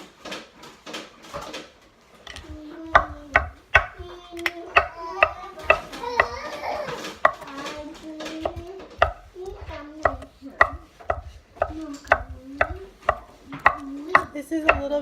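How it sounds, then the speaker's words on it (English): Vegetables for vegan soup are chopped on a board in quick, uneven knife strikes, close and crisp, with a voice talking over parts of the chopping. "chop them up so they're not the same"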